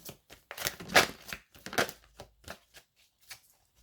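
Oracle cards being handled and shuffled for a card reading, with a run of quick papery riffles and flicks, two louder bursts near the start, then softer scattered taps fading out, close and without talk.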